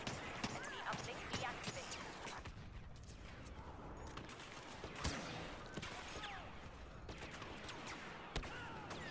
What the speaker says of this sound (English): Why do I keep firing thrice?